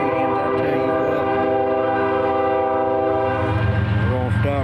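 A loud, sustained train horn blares close by over the rumble of a passing Canadian National freight train, with a second horn burst near the end.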